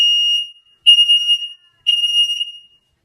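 A Nest smoke alarm sounds during its self-test, giving three loud, piercing, high-pitched beeps in close succession with short gaps between them, heard alone and close up.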